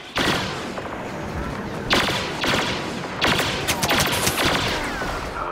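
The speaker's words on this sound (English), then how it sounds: "I'm gonna just shoot a missile over there." Missile fire and heavy blasts in the Star Wars Battlefront video game, several loud bursts of explosive gunfire arriving in clusters over a dense, continuous battle din.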